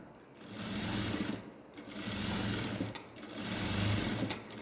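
A sewing machine stitches a ladies' straight pant in three steady whirring runs, each swelling and fading with short pauses between, close and loud with no talking.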